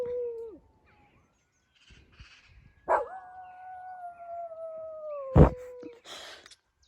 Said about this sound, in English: the dog howling to the sirens